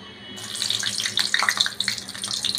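Dried red chillies hit hot oil in a wok, setting off a sudden bright, crackling sizzle that keeps spitting and hissing steadily up close, with no talking.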